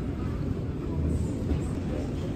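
An airport metro train in Taiwan rumbles along at speed, a dense continuous roar of wheels and cabin noise filling the interior steadily with no clear breaks.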